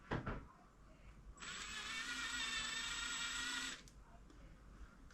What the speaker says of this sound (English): I'm going to start by countersinking this hole